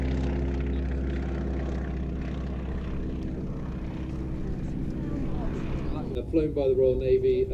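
Propeller aircraft at the Sywell Airshow coming in to land, its engine a steady droning hum with strong low harmonics that rises and shifts near the end, with someone commentating throughout.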